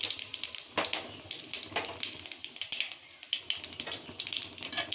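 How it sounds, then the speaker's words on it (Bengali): Whole cumin seeds crackle and sizzle in hot oil with bay leaf for tempering potol-potato korma, a steady hiss full of sharp pops close by with no talking. "ফোড়ন দেওয়ার জন্য জিরে দিলাম"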